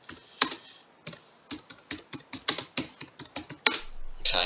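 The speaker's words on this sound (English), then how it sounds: "we can type our name in here." Typing on a computer keyboard while editing text for a Facebook cover banner design: a run of crisp, close key clicks in an uneven rhythm, with a few sharper louder strokes, and no talking.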